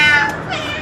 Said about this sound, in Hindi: कौन है भैया खूंखार वाली बिल्ली